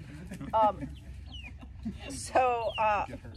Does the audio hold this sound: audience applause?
no